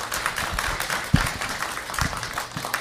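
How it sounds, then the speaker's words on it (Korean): A church congregation claps to welcome a speaker to the front, steady scattered clapping at moderate distance with one sharp louder clap midway and no talk. "우리 나오실 때 박수로 환영해 주시면 감사하겠습니다"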